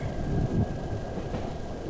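A train travelling in the video game My Child Lebensborn: a steady, continuous rumble of carriages rolling along the rails, with faint rhythmic clatter and no voices.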